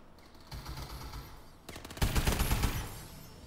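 Gunfire from Call of Duty: Advanced Warfare, with rapid automatic bursts rattling in quick succession, building to a denser, louder volley near the end, with no talk over it.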